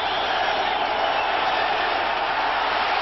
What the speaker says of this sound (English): Now the crowd begins to get into it.